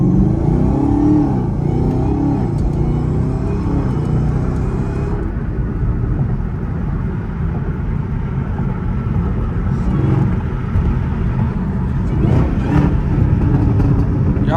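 A Camaro ZL1 in track mode drives on Chicago streets with a loud, continuous low exhaust rumble and engine drone close to the microphone, with faint pops and rough crackle over the engine note.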